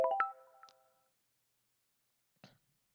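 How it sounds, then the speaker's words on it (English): A short Windows 10 proximity notification chime rings out clearly at the start, with a quick tonal ping and a small second blip, then fades into near silence broken by one faint click. "Proximity notification."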